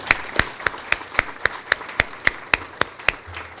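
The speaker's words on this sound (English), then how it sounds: "Let's give all of our speakers and our distinguished guests another round of applause" A round of applause from the audience at a press event, heard as about a dozen sharp, evenly spaced claps in a steady rhythm, fairly close and distinct rather than a dense crowd roar.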